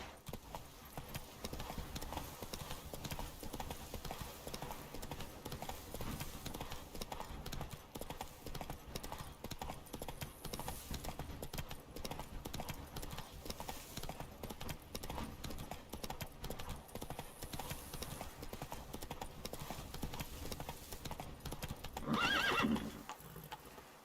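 Horse galloping in The Witcher 3, a steady quick clip-clop of hooves running throughout, with a brief neigh near the end, fairly faint under game ambience.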